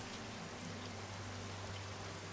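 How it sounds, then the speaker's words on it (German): Steady rain hissing broadly and evenly, with a low droning hum underneath, quiet and continuous with no voices. "der Regen wird bald wieder aussetzen"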